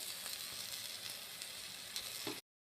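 Besan chilla made with leftover chapatis sizzles and fries steadily in plenty of oil on a tava, a continuous close crackle that carries on without a break.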